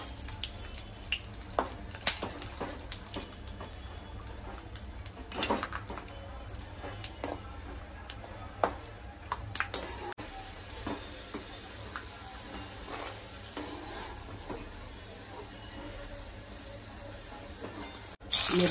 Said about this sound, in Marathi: शेंगदाणे तळून घेऊ।